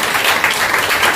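A congregation at a Pentecostal church service claps loudly and continuously, a dense, even wash of hand claps that fills the whole moment.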